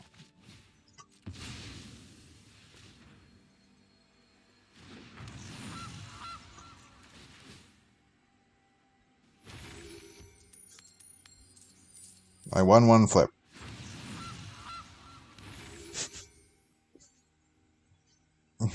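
A goose creature honks once in a card video game. One loud, brief, brassy honk stands out among stretches of someone speaking casually, with faint clinks in the quiet gaps between.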